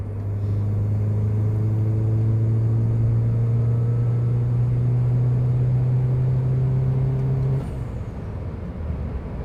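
A tuned Stage 1 Peugeot 207 GTI hatchback roars close by under hard acceleration, a loud steady engine drone rising in pitch for about seven seconds before cutting off to a low idle rumble.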